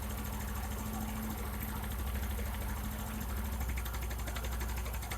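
A motorcycle engine runs steadily at high RPM during carburetor adjustment, a continuous buzzing drone with even firing pulses, close and fairly loud, with no voices over it.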